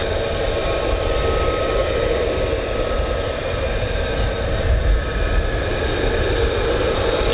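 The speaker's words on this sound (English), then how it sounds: "Enjoyed the sounds of that spooling Pratt & Whitney F-135 PW-100." A Pratt & Whitney F135 engine on an F-35 fighter jet spools at an air base, giving a steady, loud, continuous roar with a broad rushing hiss and no speech.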